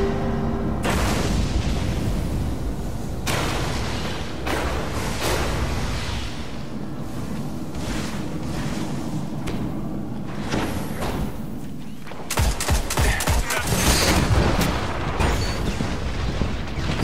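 A grenade explodes in a shooter video game, a heavy boom among thuds and sharp gunfire bangs. A loud cluster of blasts arrives near the end of the battle noise, with no talking.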